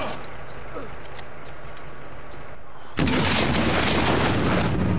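Shotgun fire in Watch Dogs during a gunfight: a steady roar of game combat gives way to a sudden loud, dense burst of blasts that continues to the end.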